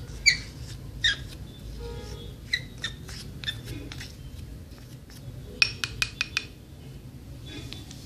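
A spoon stirring a starch face mask mixture in a bowl, producing sharp intermittent clinks and scraping taps against the bowl, fairly quiet and close, with irregular spacing.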